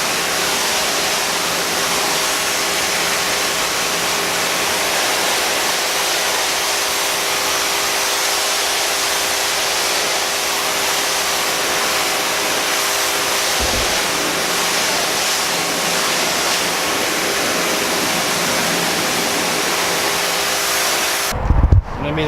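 A Ryobi 2000 psi electric pressure washer sprays water in a loud, steady hiss that runs unbroken for about twenty seconds, then cuts off briefly near the end.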